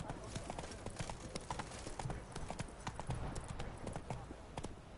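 Roach, the horse in The Witcher game, gallops with a rapid, steady clip-clop of hooves, loud and close throughout with some background noise mixed in.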